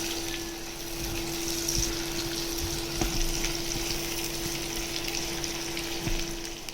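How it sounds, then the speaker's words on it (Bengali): Green chilies and chopped onion frying in oil in a pan give a steady, fairly faint sizzle with a few soft clicks, heard alone under a constant background hum. "কাঁচামরিচ পেঁয়াজ কুচি দিয়ে দেবো"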